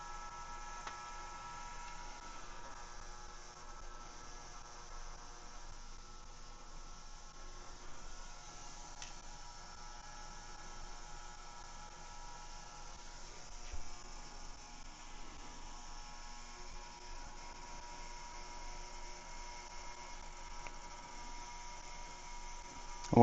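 A parts cleaner runs during a teardown and service of an Ambassadeur Record No. 61 fishing reel, giving off a steady low hum with a faint buzz that holds constant throughout, with no talking.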